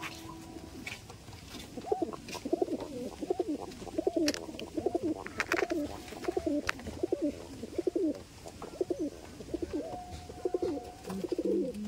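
Pigeons coo in a repeated, rhythmic series of soft throaty calls, close and steady, with occasional clicks and flutters in the background.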